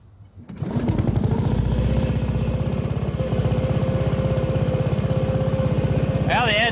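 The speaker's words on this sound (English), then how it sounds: "Okay, John, start her up." A crop sprayer's small engine cranks and catches, then settles into a loud, steady, rapidly pulsing run close by, with a brief higher whine near the end.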